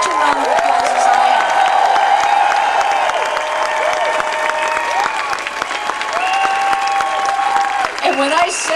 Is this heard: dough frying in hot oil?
no